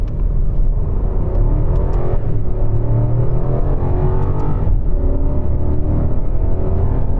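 A BMW 7 Series accelerating through first gear, heard from inside as a smooth, loud, low engine rumble with a rising whirring tone, steady throughout and without speech.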